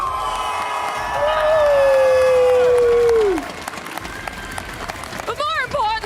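A large esports arena crowd at the VCT EMEA Grand Finals roars and cheers for Team Heretics, a loud sustained swell with whistles and shouts that fades into scattered yelling and clapping.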